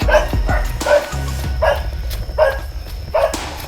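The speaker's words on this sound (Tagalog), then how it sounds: "May mga aso naman yung nakatago." Several dogs bark in quick repeated yips and woofs, fairly close and loud, with a short whimpering sound between barks.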